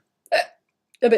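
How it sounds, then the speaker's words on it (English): Two sharp, abrupt hiccups from one person, close and loud, separated by a brief silence. "That was a hiccup."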